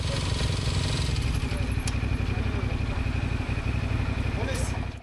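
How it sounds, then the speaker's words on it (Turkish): Several motorcycles idling at a red light, a steady close low engine rumble that fills the whole stretch, with faint street noise and slight clatter. "Motosikletliler kırmızı ışıkta durdu."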